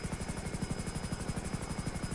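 A helicopter in the video game GTA drones steadily with a fast, even rotor chop, loud and close, with no voices over it.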